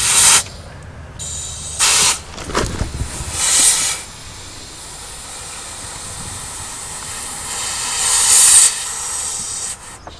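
Air hissing out of a Commer lorry's outer tyre valve, loud close hissing bursts with a long steady rush of escaping air in between and a stronger surge near the end.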